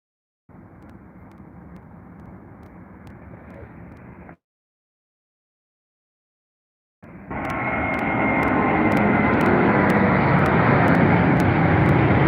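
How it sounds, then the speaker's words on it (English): IndiGo Boeing Dreamliner jet at Heathrow, a broadband engine roar that cuts out for a few seconds of silence, then returns much louder and builds into a sustained close rush. "There goes Indigo, my friends. In the Dreamliner."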